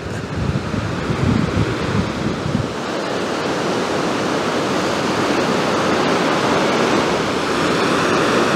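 Ocean surf on Humboldt Beach at Samoa, California, a steady broad wash of breaking waves and foam rolling up the sand, with a louder crash near the start and wind buffeting the microphone throughout, no voices.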